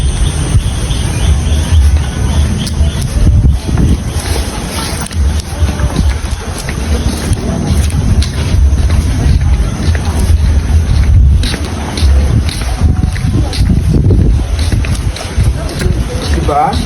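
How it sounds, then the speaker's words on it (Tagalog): Strong wind buffeting the microphone with a steady roaring rumble beside a pool at La View resort in Infanta, Quezon, with a person talking over it throughout. "Sobrang hangin lang dito. Nakakagulo ng buhok."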